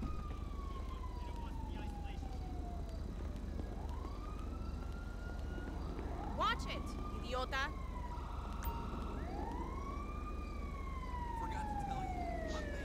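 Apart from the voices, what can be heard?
emergency vehicle siren in video game GTA V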